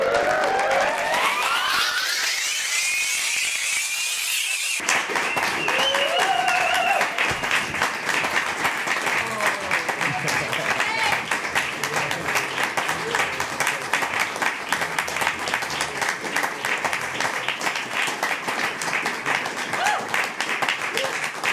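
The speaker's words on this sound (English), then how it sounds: "Give a round of applause" Applause and cheering from an audience at a live music ceremony, a long dense roar of clapping after a swelling rising tone at the start, with voices mixed in throughout.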